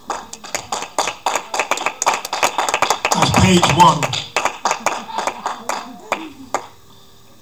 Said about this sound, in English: I'm going to give the Lord a round of applause.